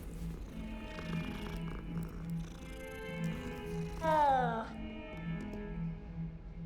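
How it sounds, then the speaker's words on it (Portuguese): A cat in the video game Hogwarts Legacy, heard over background game music, lets out a single rising, meow-like call midway, with a soft continuous purr-like tone. "Vamos fazer ronron."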